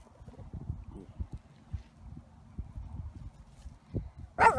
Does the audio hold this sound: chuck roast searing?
no